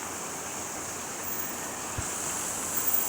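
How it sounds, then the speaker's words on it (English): Water runs through a swampy ditch in a mountain hollow, draining out of the mountainside. It makes a steady, even rushing hiss with no pauses and a faint low thump near the middle. "It's nothing but a water swamp that's coming out of the mountain right there"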